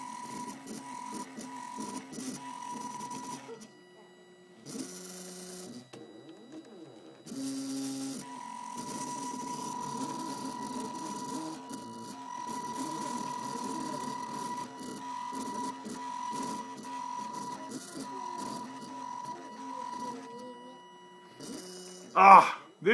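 A 3D printer running, its stepper motors giving off whirring tonal whines and shifting mechanical buzzes that change pitch with each move, steady and close, with a sharp clatter near the end.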